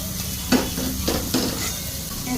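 Catla fish sizzles in a hot wok, a steady frying crackle broken by a few sharp stirring scrapes, close and clear with no talking.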